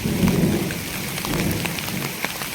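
Steady, heavy monsoon rain in the Konkan pours down with a dense hiss, and a low rumble, like distant thunder, rolls underneath. No voices.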